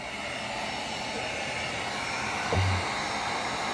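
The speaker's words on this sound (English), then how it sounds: "Heat gun going." A heat gun blows continuously as it dries a cleaned motherboard, giving a loud, steady airy roar. Near the end a brief low clunk sounds over the blowing.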